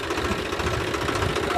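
A tractor engine runs at a steady idle, a continuous low rumbling chug with even vibration, close and fairly loud throughout the short stretch.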